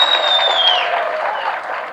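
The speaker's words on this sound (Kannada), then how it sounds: "ಅಂಡ್ ಜೋರ್ ಚಪ್ಪಾಳೆ ಬರಬೇಕು ನಮ್ಮ ರಘುಗೋಸ್ಕರ." An audience at a film event for Pinaka applauds dialogue writer Raghu, dense loud clapping filling the whole moment with a high whistle gliding through the start.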